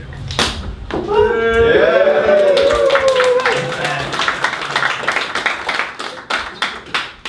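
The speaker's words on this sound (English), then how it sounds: "I was not expecting a round of applause" A live audience at a small stand-up comedy gig breaks into applause, with a cheer rising early and then scattered claps continuing, growing sparser and thinning out toward the end.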